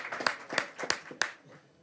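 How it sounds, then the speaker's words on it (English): Applause at a live broadcast event, made of a few distinct sharp clap bursts at an irregular rhythm that fade out toward the end, fairly faint and with no talk. "let's give a big round of applause"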